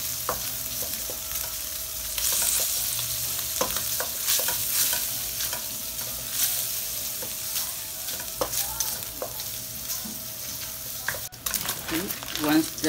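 Food frying in a pan for carbonara, with a constant close sizzle broken by repeated stirring scrapes and utensil knocks for several seconds, no talk over it.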